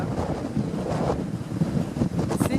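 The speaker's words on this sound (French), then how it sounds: "Énorme, les vagues qui déferlent." Large storm waves breaking on a beach as the sea rises toward nearby houses, a continuous heavy roar of surf mixed with strong wind buffeting the microphone.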